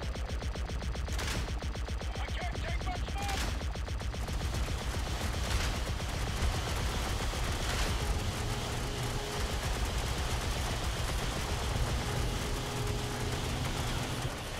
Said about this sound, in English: We're being shot at by things. Let's shoot this power generator.